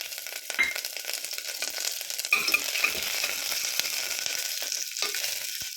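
Green chillies and curry leaves hitting hot oil in a pan for bottle gourd chutney, a bright crackling sizzle with sharp spits and stirring scrapes, steady and close, no talk.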